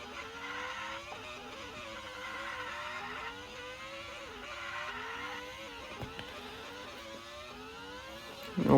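Race cars at Circuit of the Americas in a mobile racing video game whine steadily as engines rise and fall through shifts, with brief tire squeal, loud and continuous for several seconds before a sudden burst at the end.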